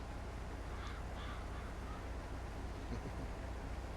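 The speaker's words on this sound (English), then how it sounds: "The birds, crows." Crows caw in Farming Simulator 22, a few faint distant calls over steady ambient rumble and hiss, with a louder caw near the start and a softer one later.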